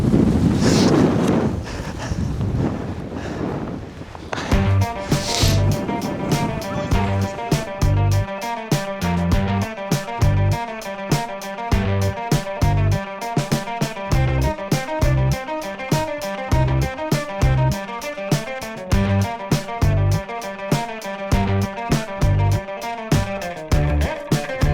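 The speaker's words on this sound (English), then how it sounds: "with the 30-mile-per-hour winds and the 5-degree wind chill" Strong 30-mile-per-hour wind on a frigid Colorado ice-fishing trip buffets the microphone with a loud, roaring rush for a few seconds before rhythmic music takes over.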